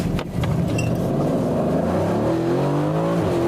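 An Aston Martin Vantage V8 engine accelerates hard, its loud, close exhaust note climbing steadily in pitch after a short initial rumble.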